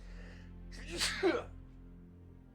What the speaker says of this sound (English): That was a really hard sneeze.